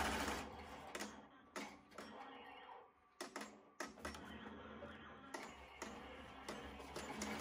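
A Melco embroidery machine stitches an adult sweatshirt held in an 8x13 Mighty Hoop, running in rapid, steady bursts with a few short pauses and restarts, fairly faint and heard alone.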